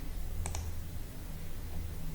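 Two quick, close computer mouse clicks in a row, sharp and dry over a low steady background hum, while selecting and placing a rectangle in drawing software.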